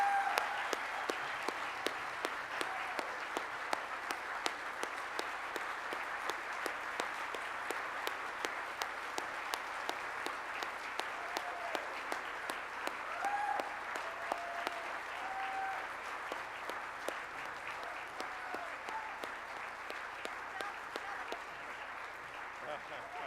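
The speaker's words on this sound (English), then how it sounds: "please stand and give them a round of applause" Steady applause rises from the crowd at an awards ceremony, continuous dense clapping with a few sharper individual claps, moderately loud and sustained throughout.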